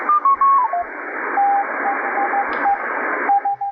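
Shortwave radio tuned to the 80-meter amateur band, with steady keyed tones of Morse code CW pulsing over a dense hiss of band noise, close and fairly loud with no voices.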